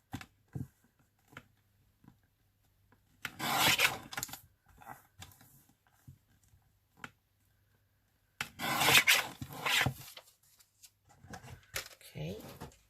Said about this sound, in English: Just going to trim the white off.